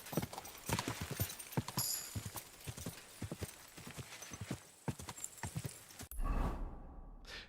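A horse gallops in the video game Kingdom Come Deliverance, with rapid, rhythmic hoofbeats close up over faint background. The gallop ends with a short breathy snort.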